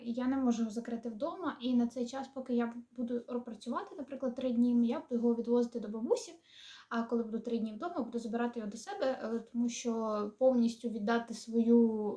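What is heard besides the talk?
None of the usual background noises is heard.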